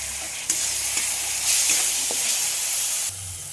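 Tomato puree goes into frying onion paste with whole spices in a hot pan, giving a steady sizzle with scraping stir strokes and a brief louder spitting burst midway before quieting, close and without talk.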